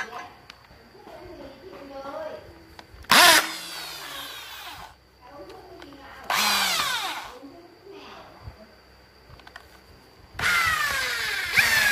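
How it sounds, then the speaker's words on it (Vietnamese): A handheld electric drill bores an 8 mm hole for a bolt while a 775 motor is being adapted into a mini grass cutter, sounding in three loud, steady whining bursts of a few seconds each, with quieter workshop noise and talk in the gaps. "em sẽ khoan cái lỗ 8 ly để đút vào cái con ốc này qua nhé"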